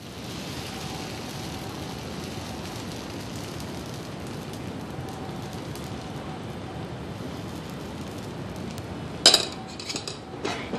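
Carrot dosa batter is ladled onto a hot pan and spread, heard as a steady close sizzle throughout, ending with a few sharp metallic scrapes and clinks of the ladle against the pan.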